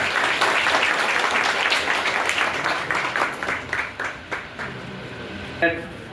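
A crowd claps loudly at a BJP election rally for district and taluka panchayat seats in Pardi, Gujarat. The applause is dense at first, then thins and fades, and a voice is briefly audible.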